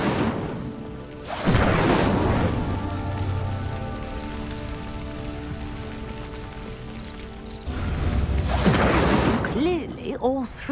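In Hogwarts Legacy, the Incendio fire spell ignites a pyre with a loud whooshing burst of flame, followed by a softer crackling stretch and then a second roaring flare near the end.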